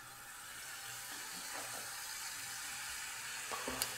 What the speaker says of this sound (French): Je prends l'équivalent d'une grande cuillère à soupe et je la verse dans mon huile bouillante